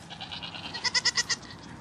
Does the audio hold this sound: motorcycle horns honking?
no